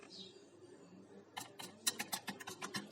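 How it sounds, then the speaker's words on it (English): Quick keystrokes clatter on a computer keyboard in a rapid, uneven burst of close clicks, following a second of quiet room hum. "then type the required text"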